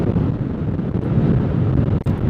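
Strong coastal wind on the north coast road of Madura, Indonesia, buffets the microphone in heavy, rumbling gusts, a loud continuous low roar with brief dips.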